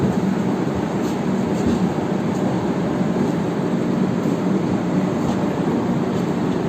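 Dibrugarh–New Delhi Rajdhani Express pulling out of a station in the Rangiya division of Northeast Frontier Railway, a steady loud broadband rumble and roll of the passing train throughout with no speech.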